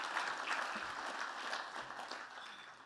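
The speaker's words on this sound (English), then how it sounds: "And if you guys could just applaud them." A banquet-hall audience at an athletics hall of fame ceremony applauds the guests at the honoree's table, a steady wash of clapping from many hands that fades slightly toward the end.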